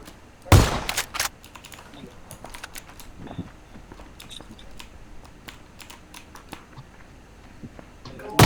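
Sharp loud gunshots burst in the PUBG video game near the start, followed by scattered fainter shots and clicks over a quiet background with some distant activity.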